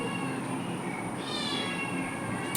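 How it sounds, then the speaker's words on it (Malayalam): A house cat meows in a drawn-out, wavering call at close range, heard over a steady background hum with no talking. "അത് പൂച്ച."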